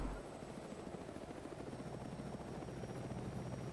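A helicopter flies and dives in a military video game, its rotor giving a continuous fast chopping throb, steady and fairly faint, with no talk over it.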